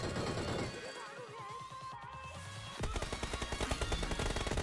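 Enemy gunfire in the battle-royale mobile game BGMI, loud rapid bursts of automatic shots crackling dense and continuous, heaviest in the final seconds, with game effects mixed in and no clear talk over it.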